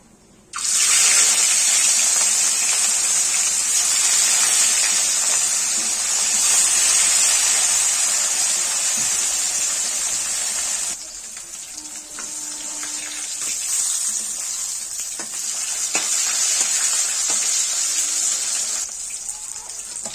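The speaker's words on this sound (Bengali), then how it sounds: "বাকি মাছগুলো ভেজে নেবো" Fish pieces fry in hot oil in a pan, a loud, continuous hissing sizzle that holds strongly, then eases slightly after about halfway and carries on unbroken to the end.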